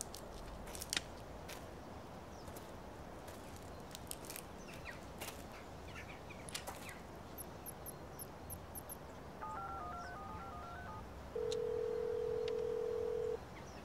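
A landline telephone being dialed in a quiet room: a series of distinct key tones, then a steady tone held for a couple of seconds, over faint background noise with occasional clicks.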